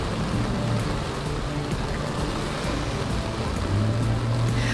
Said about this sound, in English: We've already seen some intense rainfall.